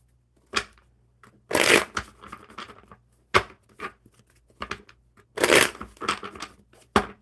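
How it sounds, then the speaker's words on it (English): A deck of playing cards being shuffled indoors during a rainy evening, with repeated loud riffling bursts separated by softer ruffling and tapping between them, and no voices. "one more good shuffle for Sammy"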